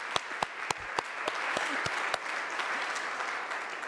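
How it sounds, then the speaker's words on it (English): A conference audience applauds, a few distinct sharp claps at first swelling into steady, dense clapping from a large crowd that holds at full level to the end. "And also a big applause to our moderator, Konik Shimo"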